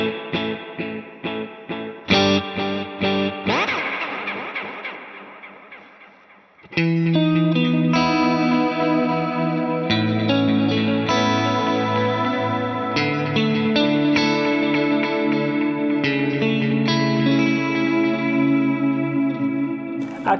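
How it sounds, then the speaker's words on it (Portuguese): An electric guitar plays through a Strymon Volante delay pedal, its echo repeats sweeping from left to right. Clean picked notes and chords are followed by a dense, sustained wash of repeating tones, with no voices. "quando eu tocar um exemplo, você vai ouvir as repetições indo da esquerda para a direita"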